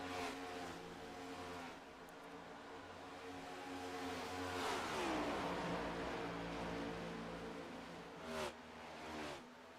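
A NextGen stock car engine roaring steadily in iRacing at Kansas, a sustained loud drone with pitch sweeps and a couple of brief gear-shift dips.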